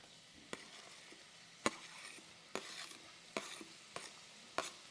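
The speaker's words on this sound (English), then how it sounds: "We're going to add in our aromatics in order to saute." Aromatics sautéing in coconut oil in a pan, heard as a faint background sizzle broken by six sharp, evenly spaced scraping strokes of a utensil, close and with no talk.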